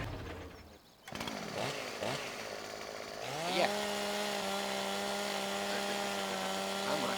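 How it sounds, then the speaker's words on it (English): A chainsaw in Farming Simulator 17 cuts wood, its engine settling into a steady, sustained buzz with strong harmonic tones after a short burst of clattering activity, while a voice briefly speaks over it early on. "Chainsaw mechanic's still a little wonky."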